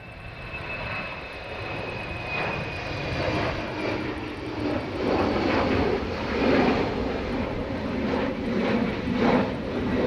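An Embraer aircraft's engines roar at an Airbus factory during new aircraft testing, a loud sustained turbine rumble and hiss that swells gradually, heard from a moderate distance.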